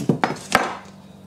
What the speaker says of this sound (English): First, chop the onion,